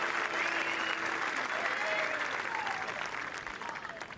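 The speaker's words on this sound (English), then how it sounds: "Just hear those cheers and applause." Spectators at the 149th Open Championship golf tournament at Royal St George's clap and cheer from a distance, a steady, moderately faint wash of applause with a few whistles and voices rising above it that gradually fades.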